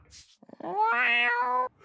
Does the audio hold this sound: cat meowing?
yes